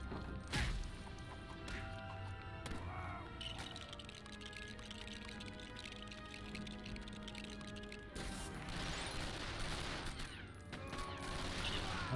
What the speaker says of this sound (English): He shoots lots of bullets.